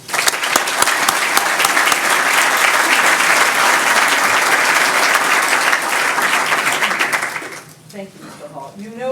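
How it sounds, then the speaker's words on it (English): A conference audience at a human and civil rights panel discussion breaks into loud, sustained applause for the panelists, a dense wash of clapping that fades after several seconds as a voice begins speaking. "Let's give a round of applause for the panelists"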